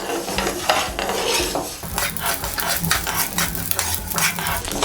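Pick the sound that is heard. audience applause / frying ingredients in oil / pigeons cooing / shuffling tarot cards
frying ingredients in oil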